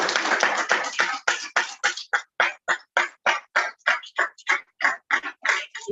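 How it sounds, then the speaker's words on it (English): Rhythmic unison clapping by a Toastmasters club audience for their president, about twenty crisp, evenly spaced claps that grow more distinct and regular as they continue. "In Toastmasters, we clap our president"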